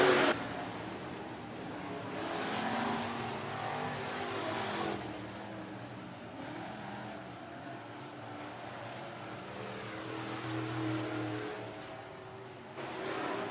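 SportMod race cars roar around Worthington Speedway in a 2022 heat race, a continuous blend of engine drone that swells and fades as cars pass, heard from a distance.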